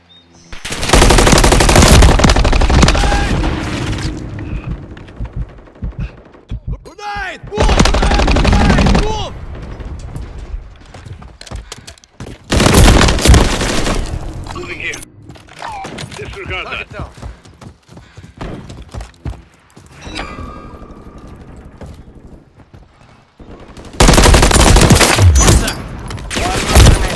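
Bursts of automatic gunfire fill a Modern Warfare 3 battle, loud and near, coming in several long volleys with quieter gaps between them while voices shout over the combat.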